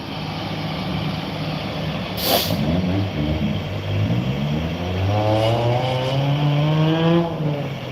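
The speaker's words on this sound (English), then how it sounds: "Fire truck." A fire truck passes with a heavy engine roar and a sharp hiss of air brakes. It rises and shifts in pitch as it moves by in a busy street setting, and no speech sits over it.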